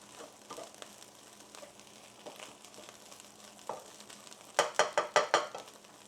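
Cauliflower rice fries over high heat in a pan, a faint steady sizzle broken by soft scrapes, then a quick burst of louder, rhythmic stirring strokes near the end.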